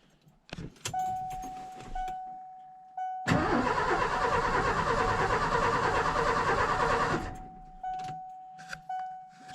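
A low-mileage Ford F250 truck from an estate auction cranks for about four seconds in a loud, close, steady grinding whir, then cuts off, with keys jangling and a repeating dashboard warning chime before and after.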